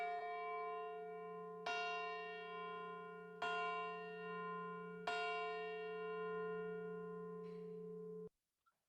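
An out-of-tune church bell with a sharp fundamental and clashing minor third is struck four times at steady intervals, each harsh, croaking tone ringing on until a final faint strike and sudden stop.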